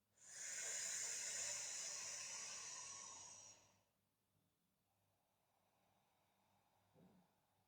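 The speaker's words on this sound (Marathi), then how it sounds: "तोंडाने श्वास घेतोय" Slow, deep breath drawn in through the mouth during a breathing exercise: one long, loud airy hiss that lasts about three seconds, then fades to near silence with a faint soft sound afterward.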